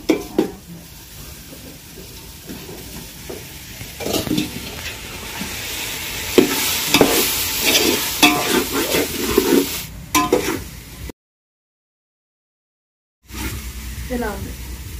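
Chicken sizzles and fries in a pan while being stirred, a close hissing crackle with scraping strokes and a voice speaking over it, broken by a short silent gap.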